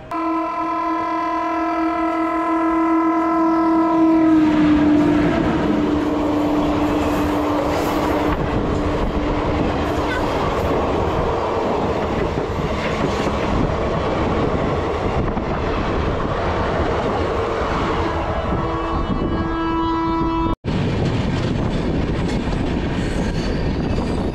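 A train stands and moves at a railway station in India on the line toward Brahmapur, Odisha, giving a loud, steady rumble of rolling wagons with a long sustained horn-like tone at the start and squealing wheels throughout.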